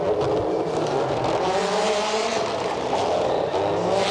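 Ken Block's number 43 rally car at the 2008 X-Games Rally Car Super Special: a loud, continuous engine roar close by, steady and raspy throughout with some tire noise.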